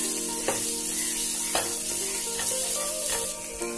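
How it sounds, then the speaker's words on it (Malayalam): Chicken mixed into masala and frying in a pan for a Malabar kilikkoodu dish: a steady, close sizzle, with a few spoon-scrape knocks at regular intervals as it is stirred. "ചിക്കനോട് ചേർത്ത് നമുക്ക് നല്ലതായിട്ട് മിക്സ് ചെയ്യാം."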